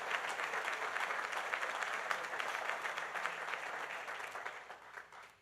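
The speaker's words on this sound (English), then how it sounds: "So a big round of applause." Steady audience applause at the opening ceremony of a new Delta concourse at LaGuardia Airport, a dense even round of clapping that tapers off at the end.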